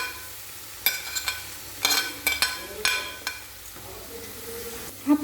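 Eggs, onion and grated carrot stirred in a frying pan, with a spatula scraping and tapping in several short clustered strokes over a soft sizzle, close and fairly quiet.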